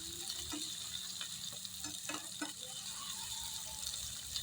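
Tomatoes sauté in a pan as shrimp and kangkong are cooked, giving a soft, steady sizzle with a series of quick spoon-stirring clicks and scrapes in the middle, quiet and close.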